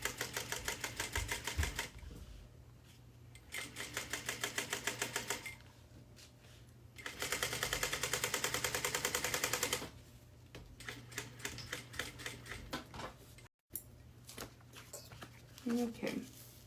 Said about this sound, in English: I'm going to sew up.